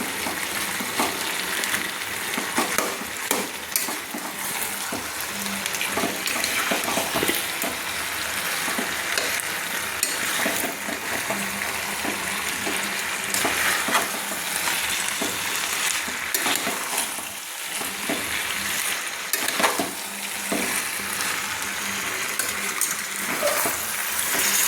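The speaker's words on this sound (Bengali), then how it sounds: "দিয়ে এবারে মাছের মাথা দুটো দিয়ে কিন্তু আমি নেড়ে নিচ্ছি।" Fish heads frying in a pan with a loud, dense sizzle while they are stirred, spatula scrapes and clinks recurring over the steady hiss throughout.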